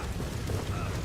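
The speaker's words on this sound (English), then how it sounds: "throwing a flashbang" A flashbang grenade goes off in Ghost Recon Wildlands, a loud, dense, rumbling blast filling the whole short moment.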